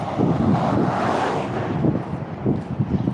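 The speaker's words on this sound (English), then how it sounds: "Nice little wind." Outdoor wind buffets the microphone on a cold day during a neighborhood dog walk, producing a loud, continuous rumbling roar with irregular gusty swells and no talking.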